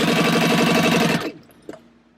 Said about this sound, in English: Now we're going to go to the sewing machine and sew these together.